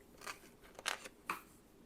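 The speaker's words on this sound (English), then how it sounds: "using my bone folder to press down both" Bone folder pressing and sliding over glued paper in a handmade journal, three or four short crisp rasping swipes close by in quiet surroundings, without speech.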